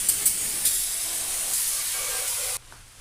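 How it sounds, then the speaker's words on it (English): Aerosol brake cleaner sprayed onto an LS1 oil pan in a garage, a steady close hissing spray lasting about two and a half seconds with a few short pulses before it cuts off, no talking. "I may also give it a blast of brake cleaner"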